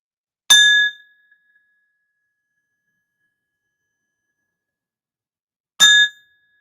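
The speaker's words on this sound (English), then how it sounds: "That's your copper cowbell right there." A copper cowbell struck twice, each a bright metallic ding ringing out briefly, the two strikes about five seconds apart with silence between.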